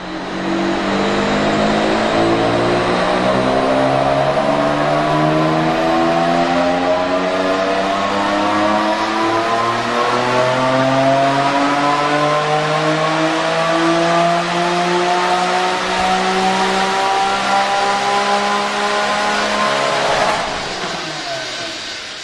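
Bugatti EB110 with its V12 engine revving hard, pitch climbing steadily through long acceleration as the loud, close engine note rises for about twenty seconds before cutting off.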